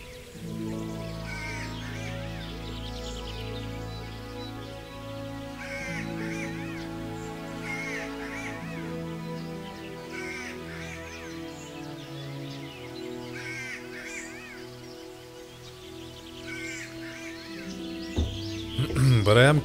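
Crows caw repeatedly in short bursts over a steady low droning background in the video game Kingdom Come Deliverance, with the calls spread through the scene at moderate loudness.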